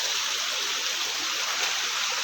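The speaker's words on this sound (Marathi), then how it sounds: "पाणी वाहते" Continuous rush of flowing stream water past fallen trees, a steady hiss and burble at moderate level with no breaks and no voices.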